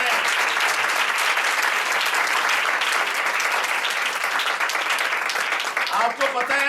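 Sustained, vigorous applause from a church congregation at a Christmas gathering, many hands clapping in a thick continuous roar that carries on for several seconds and tapers slightly at the very end.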